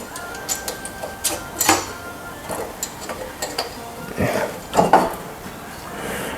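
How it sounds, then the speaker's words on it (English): Nuts being fitted and tightened on a VW Beetle engine with a 4-in-1 exhaust header, a series of sharp metallic clicks and taps at irregular intervals, close by, with a few louder clanks. "it's going to tighten up all the nuts"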